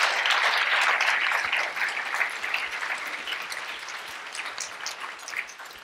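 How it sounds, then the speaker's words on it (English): An audience gives loud, sustained applause to speakers after a panel discussion on natural capital approaches in India; the dense clapping is strongest at first, then gradually thins and fades. "I would like to invite you all to give a very warm applause to our speakers"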